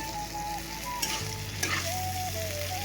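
Potato and cauliflower curry frying in a pan, a steady close sizzle with a couple of brief utensil clatters, under a faint melodic background tone.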